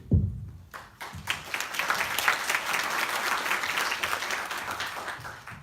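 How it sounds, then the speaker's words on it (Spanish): A crowd applauds steadily, a dense wash of clapping that swells quickly and holds for several seconds before easing slightly. "recibamos con un aplauso al ponente"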